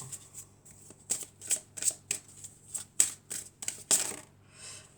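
Tarot cards are shuffled by hand, a string of close, crisp riffling bursts and soft slaps coming in quick uneven bunches, with no voice over them.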